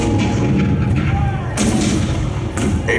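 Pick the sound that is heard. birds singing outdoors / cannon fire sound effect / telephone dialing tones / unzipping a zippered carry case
cannon fire sound effect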